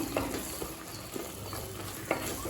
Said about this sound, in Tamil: மசாலா சேர்த்துட்டு 1 நிமிஷம் வரைக்கும் நல்லா வதக்கினா போதுங்க